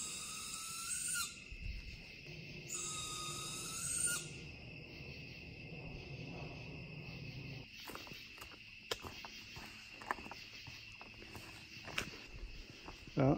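Owl calling from the trees during a night hike on the Appalachian Trail in New York, repeated shrill calls at a moderate distance over a steady chorus of crickets and insects, with occasional footsteps nearby.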